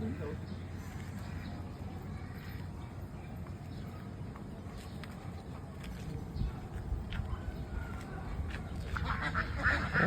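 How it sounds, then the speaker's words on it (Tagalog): Many ducks quack continuously from close range, a busy overlapping chorus with people talking beneath it. "Pagkakadaming bibe."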